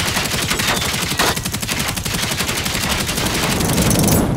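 Rapid automatic gunfire from weapons shooting at robots in the video game Generation Zero, a dense, loud, continuous burst of shots lasting throughout with no talk.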